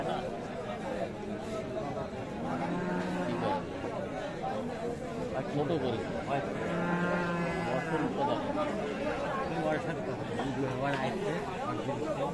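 Sahiwal cows low repeatedly over a busy crowd of chattering voices at a village cattle market in Bangladesh, the moos rising clearly above the market din.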